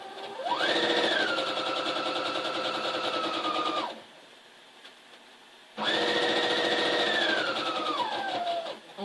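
Sewing machine stitching fabric for a flag, running in two long steady bursts with a rising and falling motor whine, separated by a short quiet pause; no talking.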